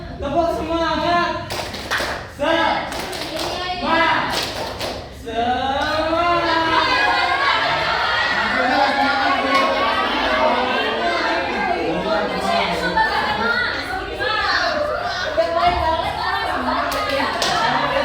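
A group of people, likely children and young participants, clap a rhythmic spirit clap in a classroom, sharp patterned claps at first, then voices chanting and chattering loudly together over continued clapping.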